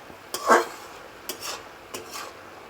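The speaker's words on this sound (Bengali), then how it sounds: "আমি একটু নেড়ে দিচ্ছি ভালোভাবে আবার মিশিয়ে দিচ্ছি" Radish and dried fish curry stirred in a pan, three short scraping strokes of a spoon against the pan at a moderate distance, with faint background hiss and no talk.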